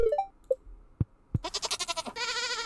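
A baby goat in the Stardew Valley farming game gives a couple of short bleats among soft game chimes and clicks, followed by a brighter burst of game music and effect tones.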